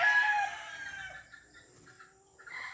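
A Hiray gamefowl rooster lets out a short, fairly faint crow at the start, which trails off into quiet barnyard background with a few soft clucks.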